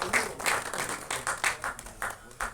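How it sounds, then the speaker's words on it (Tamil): Audience at an award ceremony at an album song screening festival breaking into applause, a moderate wash of many hands clapping in uneven bursts, somewhat distant, with no talk. "ஸோ விஜய் கிரணுக்கு ஒரு பெரிய கைத்தட்டல்."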